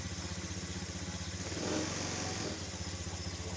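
A Honda Scoopy scooter engine, just started after a fuel-injector fault check, runs close by with a steady pulsing idle that swells briefly in a small rev midway before settling back.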